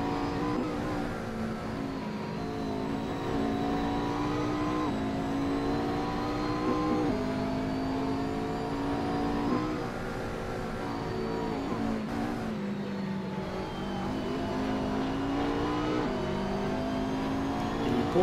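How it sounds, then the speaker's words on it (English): A Porsche GT race car in a sim racing game at Imola revs hard out of slow corners, its engine climbing through repeated gear changes in rising, stepped whines, loud and steady with brief dips between shifts. "Porsche getting its power down nicely out of the slow corners"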